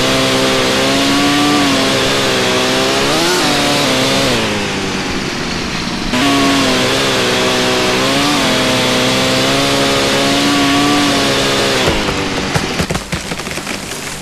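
A loud chainsaw whines and revs continuously while chopping down trees in the StarForge survival video game, its pitch dipping and rising under load, with a brief lull midway and crackling toward the end.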